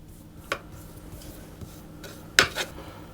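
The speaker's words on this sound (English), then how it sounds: "I'm going to use the back of a spoon to simply spread it to level it off as best I can" A spoon's back scraping and spreading chocolate shortbread dough in a tin, with two soft scrapes and a brief clink against the dish in a quiet kitchen.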